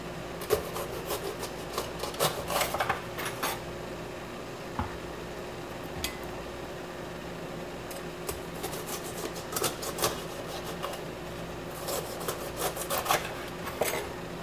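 Bell peppers are rubbed and washed by hand under water, giving soft, irregular squeaky rubbing bursts over a faint steady hum, quiet and close.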